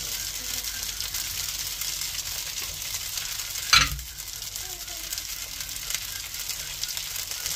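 Chopped garlic sautés in a pan, a continuous bright sizzle with one sharp utensil clack partway through, steady and close with no talking.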